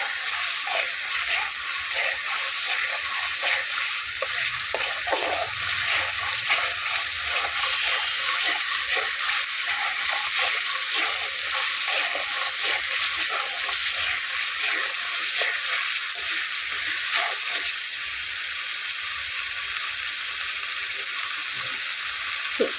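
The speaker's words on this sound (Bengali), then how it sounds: "5 মিনিটের মতো মশলাটা এভাবে ভেজে নেব।" Spice masala frying in oil in a pan while cooking rui fish curry, a steady dense sizzle with soft stirring scrapes running continuously, close and fairly loud, with no voices.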